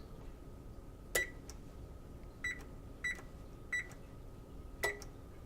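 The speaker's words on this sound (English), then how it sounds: "we are going to start with preheating our oven to 350 degrees" An oven control panel beeps about five times at uneven intervals while being set to preheat to 350 degrees, each short electronic tone clear over a quiet kitchen hum.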